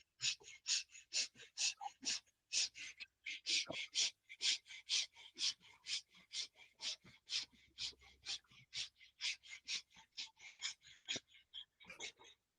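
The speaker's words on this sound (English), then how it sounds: "you start breathing quick and short breath through both the nostrils" Quick, short breaths pushed rhythmically through both nostrils in a steady series of sharp, airy puffs, close and fairly soft, continuing for many seconds with slight variations in pace.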